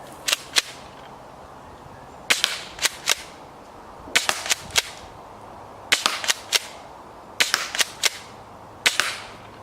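A JG SPAS airsoft shotgun fires at a bullseye target, five sharp cracks in loose groups, each trailed by a quick rattle of mechanical clicks, close and loud over a quiet background.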